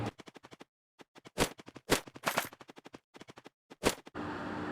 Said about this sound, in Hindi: मैंने उस पर बहुत सारी गोलियां फायरिंग करना शुरू कर दी।